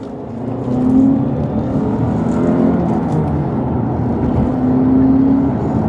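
Alfa Romeo Brera accelerating in second gear, heard from the cabin as a loud steady engine drone with tyre and road rumble, rising a little in pitch, and nobody speaking.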